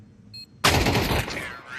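Sustained burst of AK rifle fire in a video game, erupting suddenly after a brief quiet beep and continuing loud and dense as rapid automatic shots blend together.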